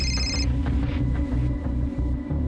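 A telephone rings in a quiet indoor room with a call from a hospital doctor. The tone repeats in a steady electronic pattern of short pulses, fairly close and alone, and no one speaks over it.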